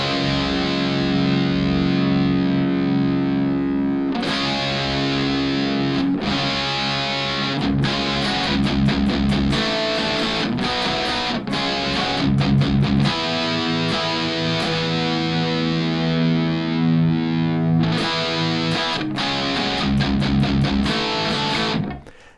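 Distorted electric guitar played through a pitch-shifter adding a perfect fifth harmony, a loud, thick sustained tone with chord hits and rhythmic chopped strums, continuous throughout with no talking.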